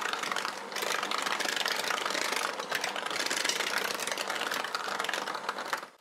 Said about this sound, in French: c'est moi qui vais mélanger là avec le batteur